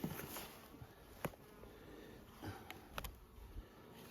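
Honey bees buzz steadily inside a nucleus hive, a low continuous drone with a few soft knocks and brief crackles from frames or handling, fairly quiet and close.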